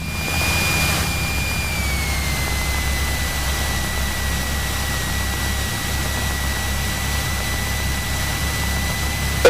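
A Cessna 172 taxiing gives off a steady piston-engine drone and broadband cabin roar throughout, heard from inside the cabin with a faint whining tone above it.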